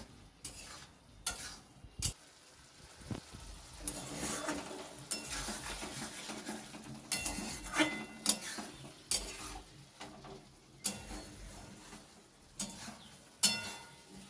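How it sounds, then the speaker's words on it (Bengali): Potato curry with tomato, chilli and onion being stirred in a pan, a spoon scraping and clinking against the metal in irregular strokes over a soft, steady sizzle, close and alone with no voices. "তারপরে দিলাম টমেটো দিয়ে হালকা একটু জল দিয়ে ওটাকে কষাচ্ছি"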